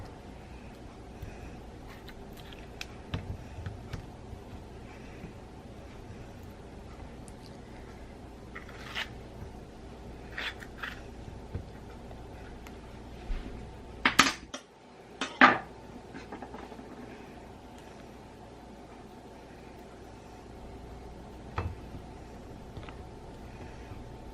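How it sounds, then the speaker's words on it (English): Avocado is mashed for avocado toast in a home kitchen: scattered soft clinks and scrapes of a utensil against a dish, fairly faint, with a couple of sharper knocks midway. "the first thing I'm gonna do is mash up this avocado and I'm gonna put it on the toast"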